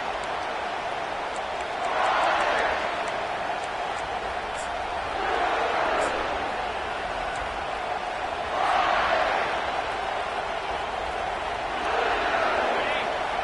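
Stadium crowd noise from the Madden football video game, a steady broad roar that swells loudly several times, with commentary talk running over it throughout.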